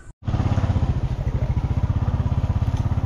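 A motorcycle engine runs close by at a steady, rapid pulsing chug, loud and continuous after a brief silent gap at the start.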